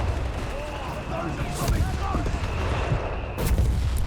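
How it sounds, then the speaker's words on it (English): An artillery launcher and a machine gun nest fire in Company of Heroes 3, a dense, continuous battle din with occasional sharper blasts, while a commentator talks over it. "Artillery launcher and the machine gun nest"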